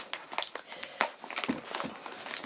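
Plastic parcel packaging from a beauty haul crinkles and crackles in irregular close bursts as it is handled and opened, with no talk over it.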